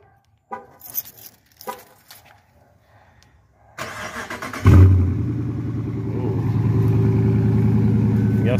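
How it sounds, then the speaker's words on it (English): A Hemi V8 car engine is started up after a few soft clicks and handling noises, catching with a loud low rumble and settling into a strong, steady idle that swells slightly, recorded up close. "I know y'all want to hear this thing. Big boy Hemi V8."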